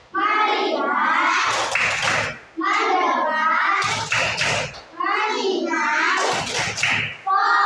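Schoolchildren in an upper-grade classroom chant the rhythmic 'tepuk fokus' focus clap, with loud voiced phrases broken by sharp bursts of clapping, repeated three times in a steady pattern.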